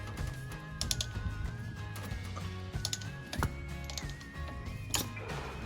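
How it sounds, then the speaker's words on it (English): The crank of a tire carrier on a Model T Ford being turned to raise the spare, giving close, fairly quiet ratcheting clicks and mechanical clatter in an uneven rhythm. "So we'll crank the tire up and we'll change this out."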